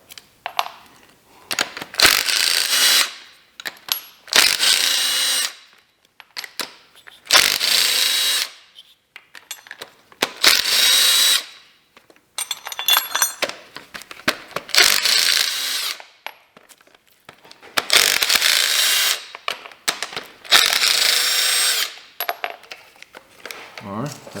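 Power tool bursts loosen and remove the valley pan bolts on a GM L83 V8 engine, roughly eight whirring runs separated by pauses with metallic clinks of bolts and tools between them, close and loud with no talking.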